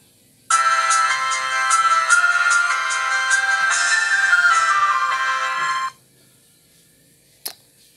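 An Itel IT5260 phone plays its startup tone, a loud, clear, bright electronic melody that lasts about five seconds, ends abruptly, and is followed by a brief click.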